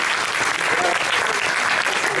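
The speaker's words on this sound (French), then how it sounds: "qu'on peut applaudir" Theatre audience applauding the playwright Georges Contamin at a premiere performance of his play; dense, continuous clapping from a full house, even and sustained throughout.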